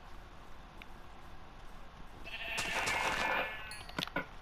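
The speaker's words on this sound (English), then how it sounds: "We need one more sheep." A Minecraft sheep lets out one short, bright bleat in the middle of the clip, over quiet game ambience.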